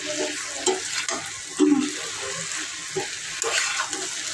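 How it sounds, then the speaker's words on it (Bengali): Okra (bhindi) frying in a pan over a low gas flame gives a steady, close hiss of sizzling oil, broken by occasional stirring scrapes, with no voices. "এই ভেন্ডি ভাজি হচ্ছে"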